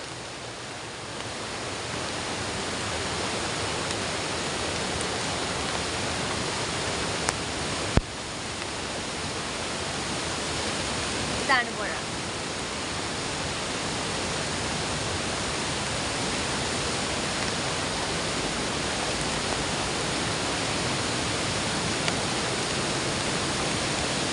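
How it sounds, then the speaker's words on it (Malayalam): Floodwater rushes through the swollen Kottappuzha river, a loud, unbroken roar of turbulent flow that holds steady throughout with no voices. "ചക്കപ്പുഴ നിറയെ വെള്ളമാണ് ഇപ്പോൾ"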